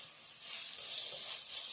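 Chopped medium onion sizzling in a pan while making tomato chammanthi, a steady soft hiss of frying, quiet and close, without any talk.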